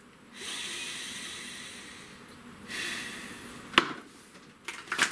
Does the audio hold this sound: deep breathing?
yes